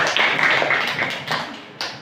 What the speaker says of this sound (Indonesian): Tepuk tangan untuk kelompok Abu Bakar.